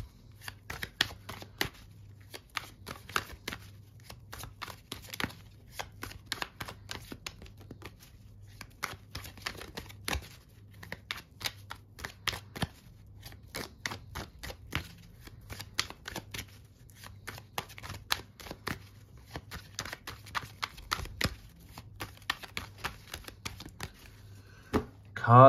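Tarot cards shuffled by hand for a reading, rapid riffling bursts and soft slaps repeating throughout at close range, with speech occurring in places.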